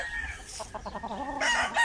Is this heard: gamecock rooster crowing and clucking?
yes